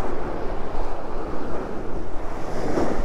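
A Linjett 39 sailboat under genoa in a 12 to 13 knot breeze at about 8 knots, with a steady loud rush of waves and wind buffeting the microphone throughout.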